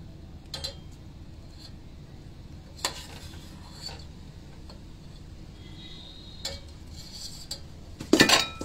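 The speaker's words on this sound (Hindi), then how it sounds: "ऑफ हम इसको एक बाउल में निकाल लेंगे।" Cooked dish being spooned from a pan into a bowl in a home kitchen: sparse light clinks and taps of utensil on metal, ending in a louder cluster of clattering scrapes.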